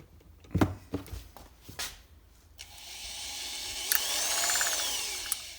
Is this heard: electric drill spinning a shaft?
yes